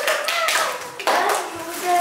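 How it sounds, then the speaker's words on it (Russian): Children clap together at a quiz game about Islam during a Ramadan challenge, a short burst of close, quick hand claps with young voices talking over it. "Все, хлопаем."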